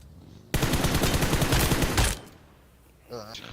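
A single dense burst of automatic gunfire in PUBG Mobile, loud and close, rattling for about a second and a half before cutting off, followed by a brief voice.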